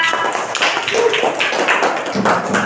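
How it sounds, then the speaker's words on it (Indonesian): Classroom students clap together during an Indonesian-language lesson simulation, a steady, dense patter of many hands filling the room for a few seconds with faint voices underneath. "Oke, tepuk tangan dulu buat Mbak Mesa."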